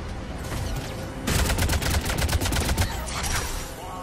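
Heavy gunfire in a Mass Effect 3 firefight, sustained bursts of rapid shots that swell louder midway and keep rattling, dense and close, with no talking.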